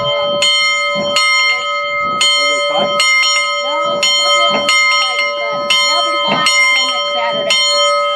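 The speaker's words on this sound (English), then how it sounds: "with the help of a rope, visitors can now ring the bell on number 1" A bell mounted on a water tank at a railway museum, rung by pulling a rope, clangs loudly and steadily, roughly a dozen ringing strikes with lingering tone, while people talk underneath.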